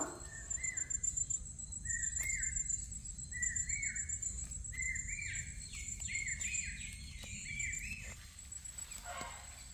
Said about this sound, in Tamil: இந்த குயில் சத்தத்தை கேட்டுக்கிட்டே